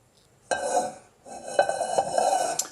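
A pan is handled at a cooker, two close metallic clanks and scrapes of cookware ringing briefly with a short pause between, no talking.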